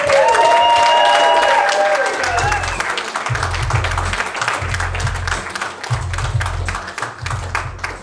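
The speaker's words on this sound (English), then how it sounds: "Jesus, that was applause." Audience applause after a stand-up comedy set at a comedy club, loud sustained clapping with scattered cheers filling the room, while a comedian speaks over it on a microphone.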